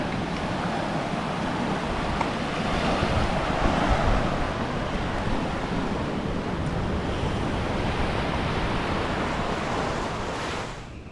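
Sea waves wash steadily into a rocky cove on Catanduanes island, a dense, continuous roar of surf with wind buffeting the microphone, with no voices throughout.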